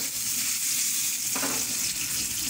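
Ripe jackfruit pieces sizzling in a hot pan for a Kerala chakka dish, a loud continuous frying hiss with a brief stir partway through, no talk.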